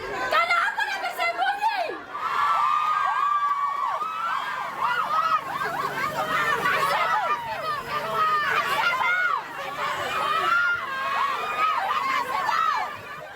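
A crowd of health workers shouting in protest, many voices yelling and chanting together in a loud, continuous roar with rising and falling cries throughout.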